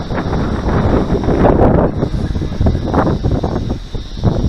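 Strong, gusty wind buffets the microphone during a Jet-V4 custom-wing RC jet flight, a loud, rough rumble that swells and dips unevenly throughout.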